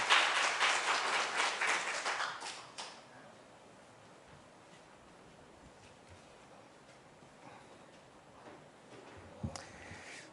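A church congregation applauds briefly to welcome a visiting pastor, a burst of clapping for the first few seconds that fades into quiet room tone, with a faint knock near the end.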